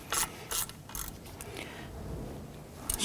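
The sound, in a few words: tightening Jeep Wrangler brake caliper slide pin bolts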